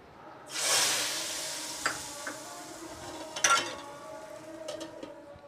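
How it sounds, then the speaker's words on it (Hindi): A soft sizzle rises sharply near the start as hot tempering is poured into dudhi dal, fading to a steady crackle, with a few small clinks of a utensil against a pot. "यहाँ पर मैंने तड़का हो चुका है मैं उसमें ऐड करूँगी दाल में"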